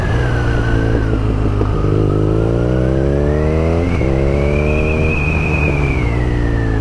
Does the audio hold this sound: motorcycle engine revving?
yes